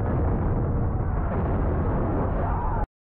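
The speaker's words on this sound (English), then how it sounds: "just mortaring a village?" Mortar rounds blast into a village in the film Rambo, a heavy, loud rumbling explosion roar filling the scene for nearly three seconds before cutting to silence.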